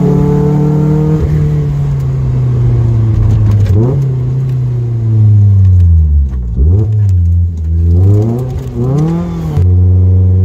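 A 122 hp Lotus Elise S2 sports car pulls hard through a few bends on a road near houses, its engine note climbing and falling with each throttle lift and shift, loud and close inside the cabin with no talking.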